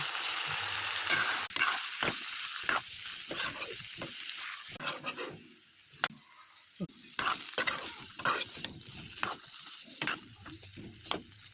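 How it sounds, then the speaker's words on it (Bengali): Washed lentils being stirred with ground spices in a hot frying pan, a steady sizzle broken by repeated scraping strokes of a spoon, close and fairly quiet, with no talking. "ধুয়ে রাখা ডাল দিয়ে দিব, একবার নেড়ে দিব।"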